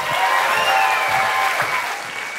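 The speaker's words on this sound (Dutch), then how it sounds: "Dit applaus, maar dan nog groter voor Ellen Laan." Audience applause at an evening talk on sexuality, a dense, steady wash of many hands clapping in a hall that holds for a couple of seconds and then eases slightly, with no voices over it.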